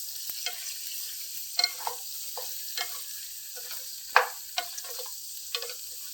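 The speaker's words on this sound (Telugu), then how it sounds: "వంకాయలన్నీ వేసుకున్నాం కదండి, ఇవన్నీ కొంచెం కలుపుకుందామండి." Brinjal and onion masala curry gets stirred in a pan, with soft scraping strokes and light ticks of the spoon against a faint, steady sizzle of frying.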